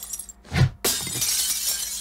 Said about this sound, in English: smashing your big ass TV.